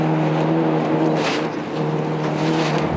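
A 1.5-litre Peugeot 106 Rally car at the Boucles de Spa rally drives past with a loud, sustained engine drone and a steady whine, dipping briefly in the middle before carrying on.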